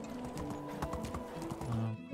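Horse hooves clip-clop steadily while riding in the medieval life-sim game Medieval Dynasty, a continuous close trotting rhythm with a brief whinny, over game music and ambience.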